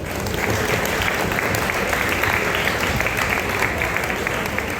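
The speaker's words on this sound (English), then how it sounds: "a round of applause please" Audience at a sports club launch event in Mumbai applauds steadily, a dense, continuous clapping throughout with no break.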